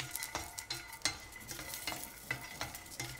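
Grated coconut, cumin, peeled garlic and peanuts dry roasting together in a pan for a matar masala, with a spatula scraping and stirring in a steady rhythm over a faint crackle. Close and moderately quiet, with no talking.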